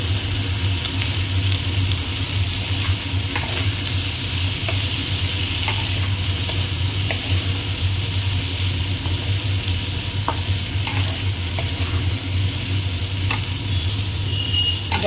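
Bitter gourd and potato pieces fry in hot oil in a pan, giving a continuous loud sizzle with occasional stirring scrapes and light clinks throughout, with no voices.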